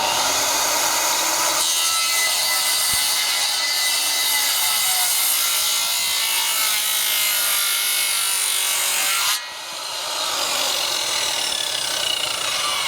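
Freehand hand sawing of wood while building a backyard pergola play set: a continuous, close, rasping back-and-forth stroke with a brief pause near the end before the strokes resume.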